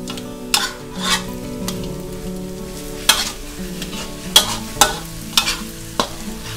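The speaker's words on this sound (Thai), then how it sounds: "ทีนี้เราก็ผัดคลุกเคล้าให้เข้ากันจนมันเหนียวเป็นก้อนเลยนะคะ" A ground peanut and pork filling for sago dumplings is stir-fried in a pan. Several sharp spatula scrapes and clacks land irregularly over a steady, close sizzle, with no talking.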